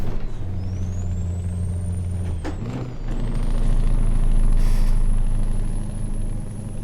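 A heavy truck in Euro Truck Simulator 2 slows with a sharp burst of air-brake hiss midway, set against a steady engine drone and a rising whine that stays high afterward. No one speaks.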